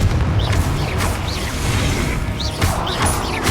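The Confringo blasting spell in a Harry Potter video game fires repeatedly amid other spell effects, giving a steady loud mix of crashes, bursts and whooshing sweeps with no quiet gaps.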